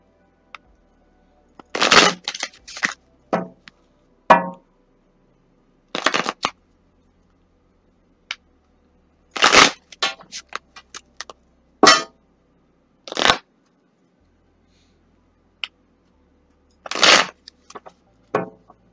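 Tarot cards are shuffled in several quick bursts of riffling and flicking, separated by pauses of quiet, close and crisp.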